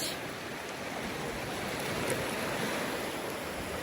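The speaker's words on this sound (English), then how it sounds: "I am actually walking in the water." Seawater splashing and sloshing around legs while walking through the surf at Galveston, a steady, close, broadband wash with no talking.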